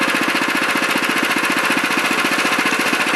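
A Honda FR600 tiller engine runs close and loud, its rapid, even firing pulses hammering steadily throughout with no pauses.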